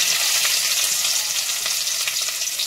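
Chopped onion hitting hot oil already seasoned with whole cumin and asafoetida, giving a loud, dense, continuous sizzle close up with no talking.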